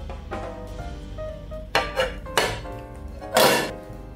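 A baking pan holding a pineapple upside-down cake is flipped, giving a few close metallic clanks and thuds over a quiet room tone, with the loudest knock near the end and no speech.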